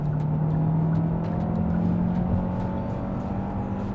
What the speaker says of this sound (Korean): 추월 가속도 한번 보여드릴게요. 여기 저희가 항상 밟는 구간이니까 지금 한 80 정도고 엑셀 풀악셀입니다